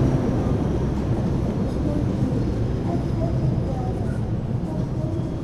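Argo Dwipangga passenger train hauled by a Cipinang depot locomotive pulling into track 3 at Gambir Station, Jakarta: a steady, loud rumble of wheels and engine with no break, announcer-style voices faintly under it.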